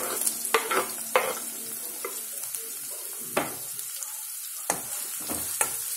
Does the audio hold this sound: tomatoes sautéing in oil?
yes